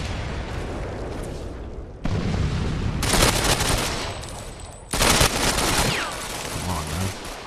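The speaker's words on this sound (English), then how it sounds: "I'm chucking a grenade." Loud gunfire in the video game Ghost Recon Phantoms, set in an airport assault, arrives in dense bursts with sharp blasts and a grenade explosion. The firing stops abruptly and restarts in several sections, close and overwhelming, with faint voices underneath.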